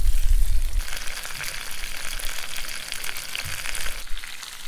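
Trout with lemon slices frying in a pan on a mountain lake trip, a steady close sizzle with broadband crackle throughout and a few low thumps from handling the pan, with no talking.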